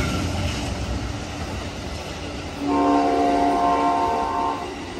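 An Amtrak Coast Starlight passenger train led by a P42DC Genesis diesel locomotive rumbles past with steady rail noise, then a loud, sustained horn blast sounds for about two seconds before fading back to rolling wheels.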